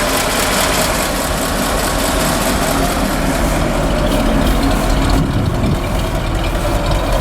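A 1952 Ford F4 truck engine with a mechanical fuel pump and one-barrel carburetor idles steadily and smoothly on a cold day, a constant low rumble close by with no talking.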